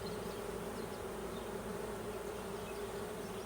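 Dense, steady buzzing from a swarm of Russian honey bees, a close continuous hum filling the air without pause.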